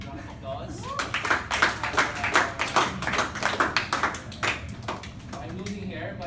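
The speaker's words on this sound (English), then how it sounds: "let's give our leaders a big round of applause." Classroom applause for class leaders during a university lecture, a burst of clapping from many students that rises quickly, holds for several seconds and fades, with a voice speaking before and after.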